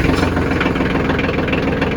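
A tractor engine fires up and idles steadily, a loud, continuous low rumble running the whole time with no voices over it.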